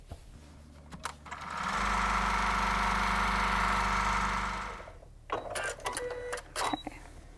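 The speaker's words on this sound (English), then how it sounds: "I am going to just add a few more stitches, some more lines of stitching just to stabilize it." A sewing machine runs a steady, loud stitching burst, stitching fabric selvedge onto a folding chair, then stops and gives way to a few scattered clicks and handling knocks.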